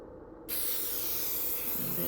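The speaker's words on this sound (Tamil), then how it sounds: "பிரேஸ்லெட்டுக்கு மேலே ஸ்ப்ரே பண்ணிவிட்டு" Close, steady hiss of a spray bottle misting cleaner continuously onto a silver bracelet, starting abruptly after a brief quiet moment and holding at even loudness.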